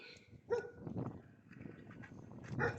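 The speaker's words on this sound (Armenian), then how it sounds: "Սամ հերիքա մնում էր դու հաչայիր" A dog named Sam gives a few soft, muffled barks and whimpers at a distance, blending with light background movement and no clear speech.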